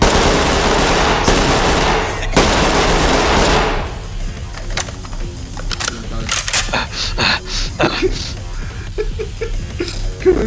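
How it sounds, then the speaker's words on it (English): Automatic gunfire rattles in dense bursts in a shooter video game, loud at first and then broken into sporadic shots and clicks, while players shout over the action. "Keep shooting. Don't stop shooting."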